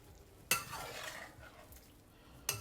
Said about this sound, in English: Gently mix them up.